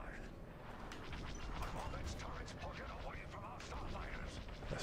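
Explosions and blaster fire in the Star Wars Squadrons video game, a dense, continuous barrage of crackling bursts and rumbling booms over a low roar, with faint talk underneath.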